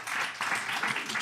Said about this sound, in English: How about a round of applause for these remarkable survivors